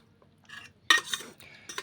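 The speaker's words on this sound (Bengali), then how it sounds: "ফোড়নটা একটু নেড়েচেড়ে খুন্তি করে নেড়ে নিলাম।" Panch phoron spices with a dried red chilli are stirred in hot oil with a metal spatula, giving a few short scraping and clinking bursts against the pan with a faint sizzle between them and no talk.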